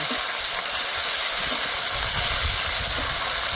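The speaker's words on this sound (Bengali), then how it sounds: "আদা রসুন দিয়ে কিছুক্ষণ নেড়ে নেব" Ginger and garlic paste stirred and frying in a pan for a potol chingri curry, a dense continuous hiss of sizzling oil with soft scraping from the stirring, steady and close.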